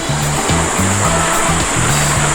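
Steady, loud rushing of a roadside stream fills the scene, a constant broadband wash with a low rhythmic hum pulsing underneath.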